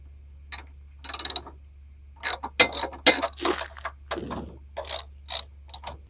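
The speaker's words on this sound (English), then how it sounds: "we'll loosen off these two 10mm nuts" A ratchet clicks in quick bursts while loosening two 10mm nuts on a generator. The short rapid ratcheting runs are separated by pauses and sound close and crisp over a low steady hum.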